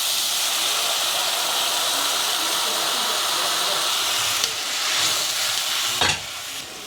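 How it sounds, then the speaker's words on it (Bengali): Tangra fish curry broth bubbles in a pot over the heat with a dense, steady hiss and seething boil that carries on throughout, and a brief clatter comes near the end. "ঝোলটা ফুটে উঠেছে"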